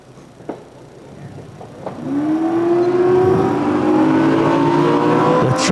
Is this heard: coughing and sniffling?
no